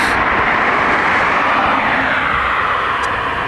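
Emirates airliner engines run after pushback at Dublin Airport, a loud, dense, steady roar and hiss that fills the whole stretch without a break.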